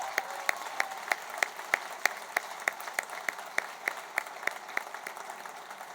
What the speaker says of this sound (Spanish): un aplauso a todos los maestros y maestras